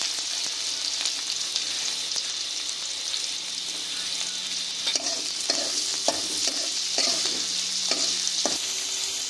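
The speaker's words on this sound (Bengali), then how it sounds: "এবার আমরা পেঁয়াজ লঙ্কা রসুন সবগুলোকে খুব ভালো করে ভেজে নিচ্ছি।" Onion, green chilli and garlic stir-fried in a wok give a steady broad sizzle, overlaid from the middle onward by a run of sharp spatula scrapes and clacks against the metal, with no voices.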